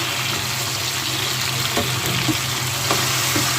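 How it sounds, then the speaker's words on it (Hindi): Frozen tomatoes fry in a pan for karela chana dal, giving a steady close sizzle with faint crackles and the occasional stir, with no voices. "अब हम इसमें शामिल कर देंगे ये टमाटर जो मैंने आपको दिखाए थे"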